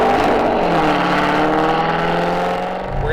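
A 700 HP C6 Corvette Z06 V8 revs loud and close, its engine roar rising steadily with harmonic tones climbing throughout, continuous with no talking.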